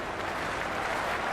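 Crowd noise at a cricket ground in the video game Cricket 26, a dense, continuous roar of cheering and clapping that stays loud and even throughout, with no voices standing out.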